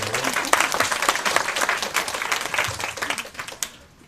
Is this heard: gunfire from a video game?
no